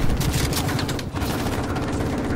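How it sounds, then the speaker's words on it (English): Rapid pistol fire from two GTO pistols in Call of Duty Modern Warfare Remastered: a fast, continuous stream of loud, close shots with a brief gap near the middle. "Two GTO pistols, always faster than reloading"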